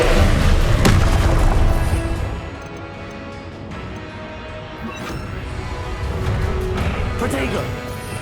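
A Confringo blasting curse explodes in Hogwarts Legacy during combat, a loud booming blast up front that fades into a rumbling tail, followed by further thuds and crashes later, with a voice shouting the spell.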